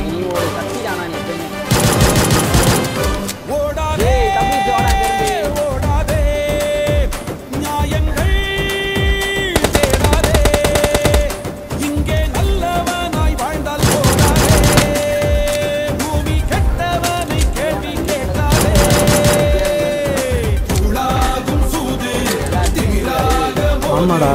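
Gunfire during a gun fight in a battle royale video game, duo versus squad: bursts of automatic fire recur with loud, dense volleys over background game music and tones throughout.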